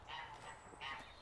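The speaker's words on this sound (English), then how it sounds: "And it's populated by a fair few ducks as well." Ducks on the moat of a country church in Hampshire give two quick, faint honking quacks at a distance over quiet outdoor ambience.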